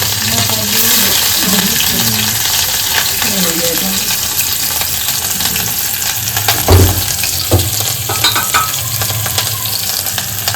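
Cumin and mustard seeds sizzle loudly in hot oil, a dense steady crackle running throughout with some clattering and faint background voices.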